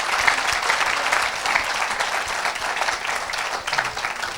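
An audience at a French-language evangelical gathering claps steadily, dense applause filling the room with no clear voices standing out.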